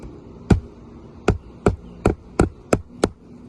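Seven sharp hammer strikes land on a roof shingle, close and crisp, in an uneven rhythm with short quiet gaps between blows.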